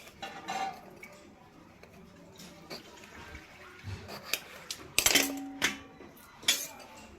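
A knife cuts ridge gourd (jhinge) into fairly large pieces on a board, giving quiet, irregular taps and a few sharper clicks and clinks in a kitchen with no talking.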